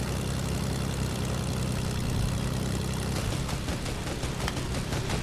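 A small propeller airplane engine in Fortnite Battle Royale Season 7 drones steadily and loud for the whole stretch, with a broadband hum that turns slightly pulsing toward the end.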